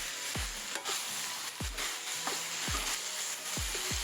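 Goat blood stir-fried with onions and fennel in a pan, a soft ongoing sizzle under repeated low thumping scrapes of a spatula, about six strokes, with no talking.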